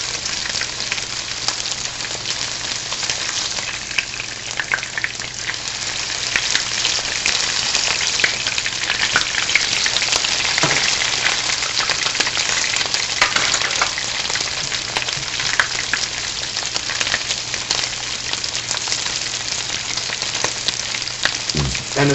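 Pork chops sear in a hot pan with a steady, dense sizzle and crackle that runs unbroken and fairly loud throughout, with no voices.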